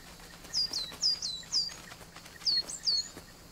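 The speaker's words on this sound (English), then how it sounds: "Oh, there's a bird in the ocean." A bird in the video game Alba: A Wildlife Adventure gives clear, high chirps in two quick clusters of three or four notes over faint background ambience.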